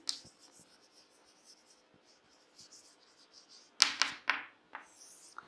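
Pen or pencil scratches on paper while a depreciation schedule is written out, faint strokes at first, then a louder cluster of quick scribbles near the end.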